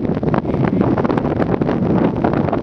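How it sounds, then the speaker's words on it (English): Strong coastal wind by the sea buffets the microphone in a continuous rough rumble, gusting unevenly throughout with no voices. "Alright, windy. The winds are blowing."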